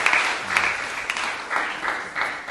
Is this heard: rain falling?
no